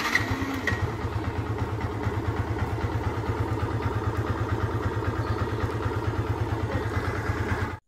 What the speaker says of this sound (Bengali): এখন বাইকটির এক্সস্ট নোটটি একটু শুনে নেওয়া যাক।